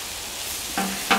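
Chicken sizzling on a Camp Chef flat top grill, a steady frying hiss with two short sharp bursts of sizzle and scraping as the meat is chopped on the griddle.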